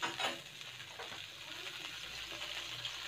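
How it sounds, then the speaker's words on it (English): Butter sizzles steadily in a hot pan as the first step of making shrimp fried rice. A constant, close frying hiss carries a faint stir or scrape near the start. "I'm gonna put a little bit butter on the pan"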